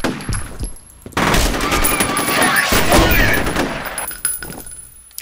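Gunfire in F.E.A.R., a loud, continuous burst of shooting lasting a few seconds with heavy impacts, bracketed by quieter moments and some speech.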